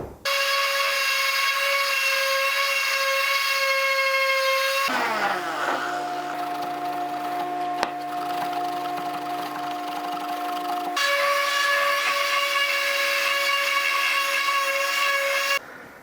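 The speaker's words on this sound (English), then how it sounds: "let's hit these spots with 60 grit sandpaper" Live edge walnut being sanded with 60 grit sandpaper under a power sander, a steady loud whine with strong even harmonics that drops to a lower grinding hum midway, then returns to the higher pitch until it cuts off.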